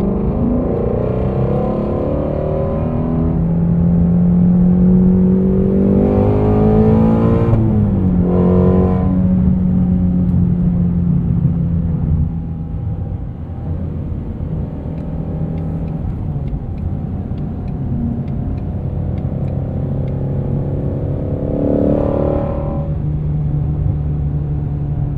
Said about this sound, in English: There's always just this really loud blip on startup, on cold start, and then it'll soften up